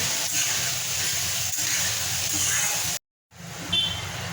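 Onions fry in a pan until golden brown, giving a steady, close hissing sizzle that runs continuously, is cut off briefly, then resumes.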